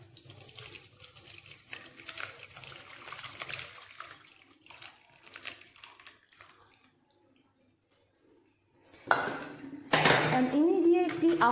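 Water splashes and pours heavily as curdled milk is poured through a cotton cloth into a bowl near the end, after a stretch of quiet clinking and faint background sounds.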